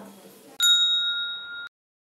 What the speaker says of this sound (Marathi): ही घंटी वाजवा